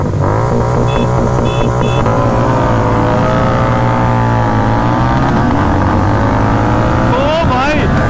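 Harley Davidson Street Rod 750 motorcycle engine running loud and close, a steady low rumble with shifting revs and a brief rise near the end, with a few faint short tones early on.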